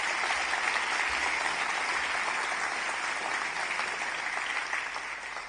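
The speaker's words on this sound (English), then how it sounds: "So please, a round of applause." Sustained applause from an audience at the New Zealand Book Awards ceremony, dense and steady clapping that fades slightly toward the end.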